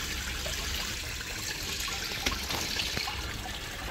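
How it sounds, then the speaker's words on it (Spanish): Water pours continuously into a fish pond being refilled, a steady rushing, splashing flow heard close up with small irregular splashes and no talking. "Voy a seguir rellenando el estanque."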